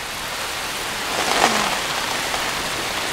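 Steady rain from The Truman Show falls in a dense, even hiss, swelling briefly midway with a soft thudding spatter before settling back to a constant downpour, with no voices.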